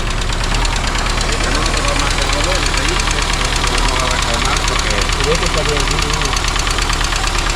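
A cold Renault 19 16V, long stored and low on fuel, runs right after starting, with a steady, loud, rattly idle throughout and voices speaking over it.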